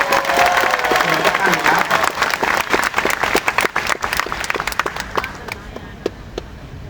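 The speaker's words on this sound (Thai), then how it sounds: "ขอให้พวกเราทุกคนปรบมือให้กับ Wellness Advisory ของสักเซสขอบเนครับ" An audience at a corporate stage event applauds the Wellness Advisory board with dense, loud clapping that gradually thins into scattered individual claps and fades out.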